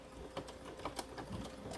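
Sewing machine back stitching on a small lip balm key ring, its needle ticking in a quick, uneven mechanical patter, close but faint.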